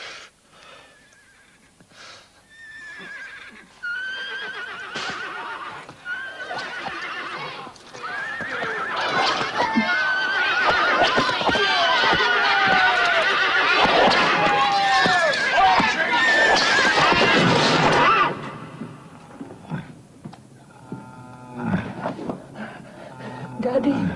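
A horse neighs and whinnies several times, with hooves clopping and a crowd chattering over it, in a dramatized street scene of a horse being beaten to death; the commotion swells loudly in the middle and then drops away.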